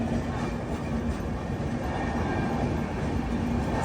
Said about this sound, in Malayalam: ഇത് പശ്ചിമ എക്സ്പ്രസ് ആണെന്ന് തോന്നുന്നു.